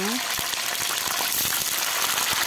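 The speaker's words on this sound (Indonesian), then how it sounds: "kemudian kita goreng cabai-cabean bersama bawang-bawangnya" Chilies, shallots and garlic frying in oil for sambal with shrimp, giving a continuous loud sizzle and bubbling hiss close by with a few soft knocks, while speech runs over the top.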